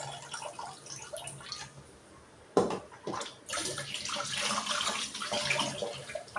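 Sardines being washed and swished by hand in a basin of water, with close, steady splashing and sloshing that swells into fuller, busier churning through the second half.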